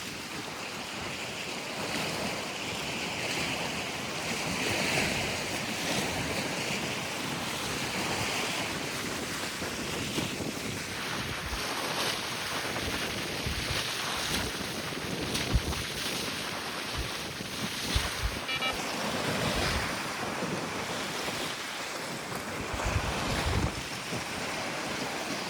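Waves wash continuously on the shore of Tkibuli reservoir under strong gusting wind that buffets the microphone, a dense, steady surf roar with no talk.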